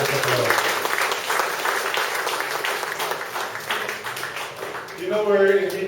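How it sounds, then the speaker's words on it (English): Sustained audience applause from a gathering after a talk, a dense steady clatter of many hands lasting throughout, with a voice beginning to speak over it near the end. "Let's give them another warm round of applause."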